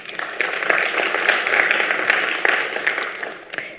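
Steady applause at the Action With Africa Challenge final, a dense wash of clapping hands that stays fairly loud for nearly four seconds before tapering off.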